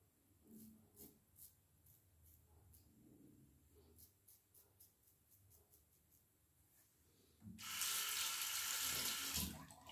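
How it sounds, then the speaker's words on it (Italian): Tap water gushes into a sink for rinsing after a wet shave with an Edwin Jagger 3One6 razor, a loud steady hiss that starts suddenly after quieter handling noises and small clinks. "Adesso ci sciacquiamo"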